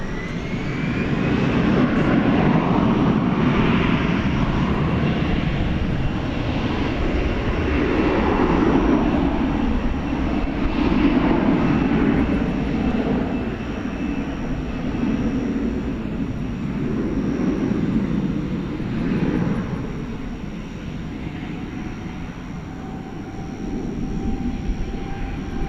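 American Airlines airliner taking off from runway 18 Left at DFW Airport at night, a sustained loud jet engine roar swelling and slowly fading as it climbs away, steady and unbroken.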